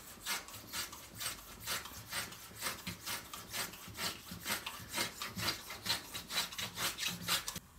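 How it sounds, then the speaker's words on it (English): A block plane takes light passes along a wooden chopstick, rounding its octagonal taper: a close, rhythmic series of quick rasping strokes, about two per second, alone. "I'm going to use the block plane very light passes and take off the actual octagon shape"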